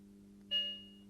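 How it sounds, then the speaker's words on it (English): A short, slightly digital-sounding bell beep from a Bachmann PCC model street car, a single clear electronic tone with a fading tail over a steady low hum. "Alright, a slightly digital sounding beep. Could that be a different bell?"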